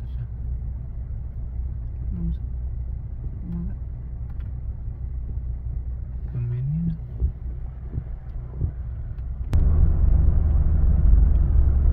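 Road traffic heard from inside a moving car near Niagara Falls, Canada: a low steady engine and road rumble with faint passing tones, then a sudden louder surge of wind and road roar near the end.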